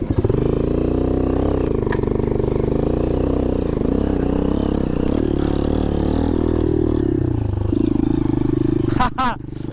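Motorcycle riding over a rocky off-road trail near Sota Patan, Bajura, with the engine droning steadily and loudly close by, rough clatter throughout and a brief squeal near the end.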